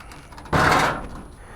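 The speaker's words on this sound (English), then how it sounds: "let's get this door shoved in there and see if she fits" A VW Beetle door is shoved into the car body with a single dull scraping thud of metal that fades quickly, close by and with no talk.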